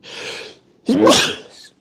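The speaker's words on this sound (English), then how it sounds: "That's the first time I've sneezed online on a video." A single close, loud human sneeze: a breathy intake followed by a sharp, voiced burst that trails off quickly.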